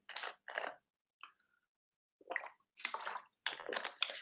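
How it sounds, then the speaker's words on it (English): A quick swig of water, heard up close and quietly as several wet gulps and mouth sounds with short pauses between them, one small squeak midway, and no talking. "I was going to take a quick swig of water while I continue my stories."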